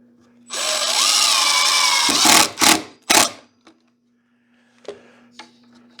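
A long screw driven into wood with a power drill: a sustained whining motor run of about two seconds, then a few short sharp bursts as the screw seats, followed by quiet with small knocks.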